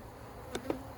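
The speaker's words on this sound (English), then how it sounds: "These bees are not just, they're really angry." Agitated bees in a split colony's hive box hum faintly and continuously, with two brief, sharper buzzes from single bees passing close.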